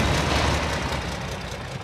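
Vehicle engine in a military co-op video game droning steadily at a low pitch, a dense broadband rumble that holds constant throughout with no voices over it.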